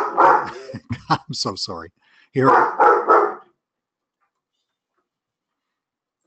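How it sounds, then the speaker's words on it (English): A household dog barks indoors, reacting to someone entering the house, with a few quick close barks mixed into apologetic speech before the sound cuts to silence. "that's my dog."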